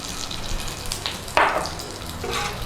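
A tablespoon of Thai red curry paste hits hot oil in a pan and sizzles, with a sudden bright fizz midway that settles into a steady frying hiss.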